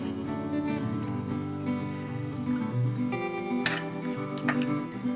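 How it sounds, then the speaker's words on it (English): A spoon stirs a cornstarch and water paste in a bowl while hot and sour soup is being made, giving light intermittent clinks and scrapes against the dish. Background music plays steadily underneath. "Now just mix this."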